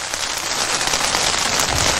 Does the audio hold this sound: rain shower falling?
yes